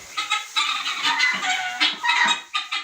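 Chickens cluck in short overlapping bursts, close by and fairly loud, a busy flock of young chickens chattering with no voices.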